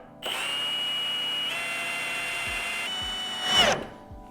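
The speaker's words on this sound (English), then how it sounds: "And then you come back with your drill and put it on that center punch." A power drill whines steadily at high pitch for a few seconds drilling into sheet metal at a center punch mark on a Skyline GTT quarter panel, rising sharply near the end before stopping, close by.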